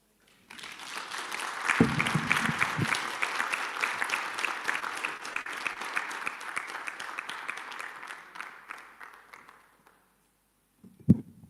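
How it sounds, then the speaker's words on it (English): An audience at a parents' seminar breaks into applause, a full sustained round of many hands clapping for about nine seconds before it fades out, with a lone thump near the end. "Let's give her a round of applause again"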